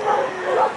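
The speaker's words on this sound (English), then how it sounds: "There's so many dogs." Dogs barking and yipping amid a busy crowd at a Stampede pancake breakfast, short overlapping barks in a lively outdoor setting with chatter and voices around.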